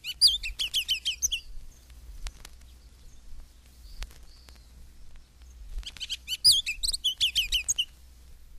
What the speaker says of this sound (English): Page 212, Bullock's Oriole.